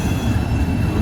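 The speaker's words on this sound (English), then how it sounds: "I got that one train over there" The steady rumble of a passing freight train fills the air, with a thin metallic wheel squeal riding above the low roar.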